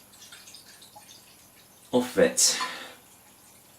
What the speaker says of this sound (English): we'll pour it out into the glass